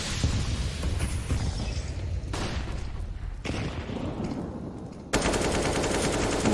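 Heavy automatic gunfire and grenade blasts from a professional CS:GO esports match at DreamHack Masters Spring 2020, a dense, loud, continuous barrage with bursts shifting in texture and a sudden louder volley near the end.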